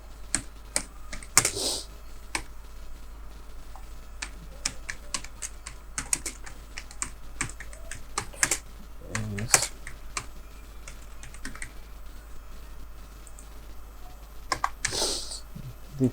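HTML script being typed on a computer keyboard: a steady run of close keystrokes, with occasional louder clacks and brief pauses, no voices.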